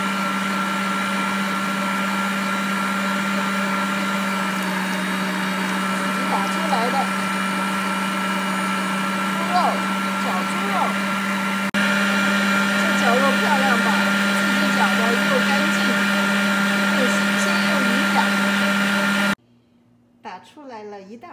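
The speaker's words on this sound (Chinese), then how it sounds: "等一下放到 绞猪肉机的那个机器去绞" An electric meat grinder works through chunks of fresh pork loin, giving a steady, loud motor hum with a strong low drone and faint irregular crunching, running continuously for about nineteen seconds before cutting off abruptly, followed by brief quiet talk.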